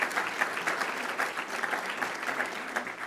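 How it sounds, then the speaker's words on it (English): An audience claps steadily through a speech on state policy, the applause moderately loud and even, with no talk over it. "I stand up here and you clap and it feels really good."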